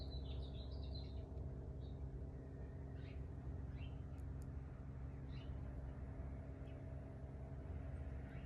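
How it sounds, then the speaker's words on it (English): Birds chirping outdoors, faint scattered high calls heard through a steady low rumble of distant traffic, the chirps clustering early and then thinning out. "Hear the birds?"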